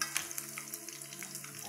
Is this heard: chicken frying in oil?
yes